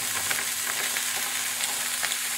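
Steady, loud sizzling of chicken steak frying in a hot pan, a continuous crackling hiss with no voices.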